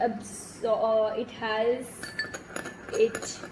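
Small metal spoon clinking against a bowl while stirring honey into a homemade face pack, a few light, close taps and scrapes interspersed with someone talking.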